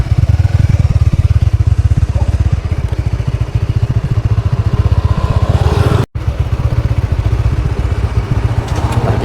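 A motorcycle idles and putters close by as it is parked, a steady low, throbbing engine chug with a brief dropout midway, with no talk over it.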